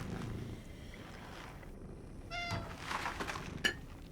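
Cat in the horror video game Cronos: The New Dawn giving a brief meow amid windy, rumbling ambient noise, followed by a sharp short click.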